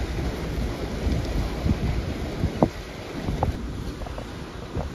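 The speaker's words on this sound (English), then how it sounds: "That might be it for the heavy rain today, guys. It is windy, though, and some of the gusts are pretty bad." Heavy rain and strong gusting wind pound an outdoor cooking spot in rough weather, producing a loud, continuous broadband roar with a few scattered thuds and no voices.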